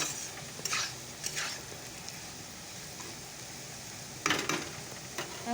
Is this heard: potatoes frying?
yes